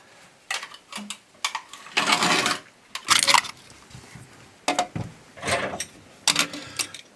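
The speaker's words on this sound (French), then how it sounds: "On dévisse donc l'écrou qui retient le lavabo dans le mur" Loosening the nut that holds an old washbasin to a wall during a bathroom renovation: a series of short metallic clicks and longer scraping, ratcheting bursts, irregular and close, with no talking.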